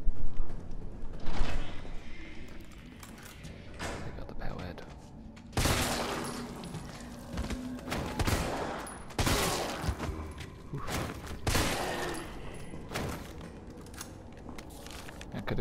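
Gunshots in the video game Resident Evil 3, a series of sharp loud reports spaced through the clip amid mechanical clanks and game ambience, with someone talking at times.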